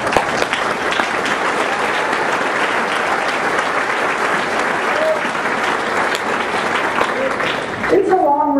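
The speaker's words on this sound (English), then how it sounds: "So I give you my applause, and I hope that you will congratulate yourselves." Sustained applause from a large convocation audience fills the space at a steady loud level for about eight seconds, then fades and ends near the close.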